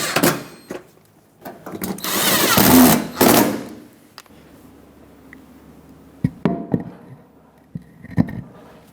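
A power drill drives 5.5mm screws along the fender of a 2000-2005 Ford Excursion in short, close whirring bursts, one long run followed by several brief pulses and clicks, with quiet gaps between.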